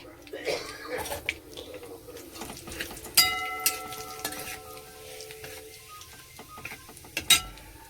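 Bay leaves, a dried chili and cumin sizzling in hot oil in a pan: a soft, even sizzle with sharp spoon clinks and a few ringing metallic taps, heard close and without speech.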